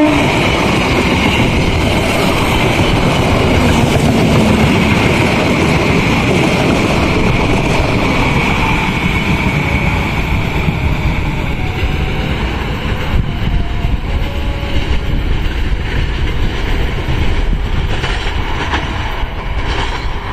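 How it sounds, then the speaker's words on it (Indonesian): A diesel locomotive train hauled by RNB 8346 rumbles past close by, a steady loud roar with clattering wheels and a faint high squeal, no talking. "itu dia kereta api yang paling setia menggunakan lokomotif RNB"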